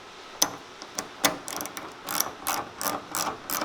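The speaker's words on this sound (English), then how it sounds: "So we're just snugging the bolts" A hand ratchet clicks close by while bolts are snugged on a Dodge Ram fender, a few spaced clicks at first, then faster bursts of sharp pawl ticks.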